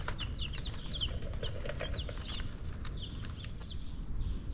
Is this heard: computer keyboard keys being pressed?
no